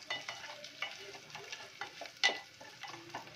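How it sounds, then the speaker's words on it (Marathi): Garlic frying in oil for a traditional Bhogi vegetable dish: a faint, close sizzle with repeated light spoon clicks and scrapes in an uneven rhythm, and one sharper clink near the middle. "लसूण आपल्याला जास्त फ्राय नाही करून घ्यायचा आहे"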